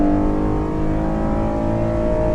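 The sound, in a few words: Ford F-150 running on CNG accelerating at full throttle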